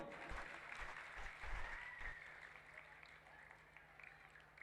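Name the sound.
applause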